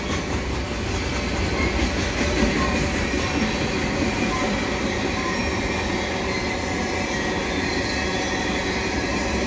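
A CN mixed freight train rolls past Cedar Park EXO station in a steady, continuous rumble with faint wheel clatter and squeal, loud and unbroken throughout.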